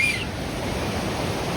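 Rushing river water in Pahalgam, Kashmir, a steady broadband roar close by and unbroken, with a brief high whistle at the start.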